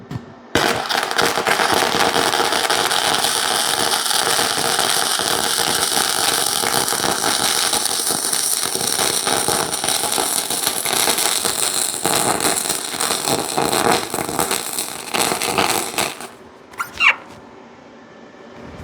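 Steady crackling buzz of a gasless flux-core MIG welder, an Arccaptain 205MP, laying a continuous bead for about sixteen seconds before cutting off, followed by a faint short sound in the quiet.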